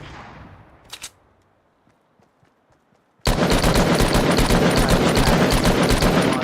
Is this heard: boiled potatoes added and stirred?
no